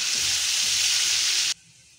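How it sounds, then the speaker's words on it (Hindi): Cumin, ginger-garlic paste and tomato paste fry in hot oil for a Pakistani-style aloo keema, a loud steady sizzle that cuts off abruptly after about a second and a half, leaving near quiet. "इसी ऑयल में वो फ्राई हो जाएगा।"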